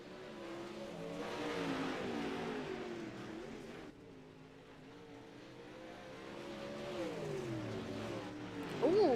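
Dirt late model race car engines in a racing video game drone and rise in pitch as they accelerate, a steady mid-distance roar that swells and fades without any talking.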